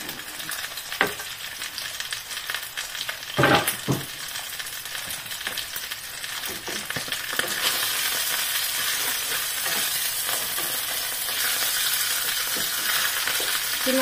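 Garlic and onion sautéing in a pan for home cooking, a steady close sizzle with occasional stirring clinks, growing louder and denser partway through, no voices.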